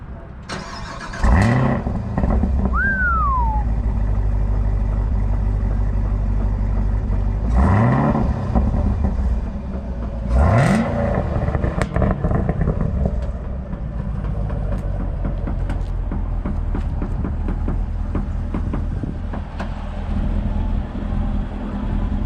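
A 2022 Chevrolet Camaro ZL1 with a manual transmission cold-starts with a loud starter crank and engine flare, revs rise sharply several times, then settles into a deep, rough, steady idle up close.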